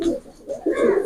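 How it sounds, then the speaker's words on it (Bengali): A male KTM pigeon coos close by, two low throaty phrases separated by a short pause, heard alone with no talking. "এটা হলো কেটিএম এর একটা নর কবুতর"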